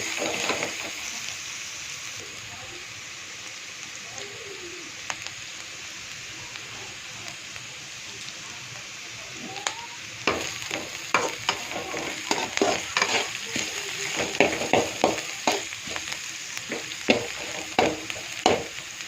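Carrots and onions stir-frying in oil for homemade fried rice: a soft sizzle at first, then busier scraping and tossing strokes that grow louder and more frequent near the pan.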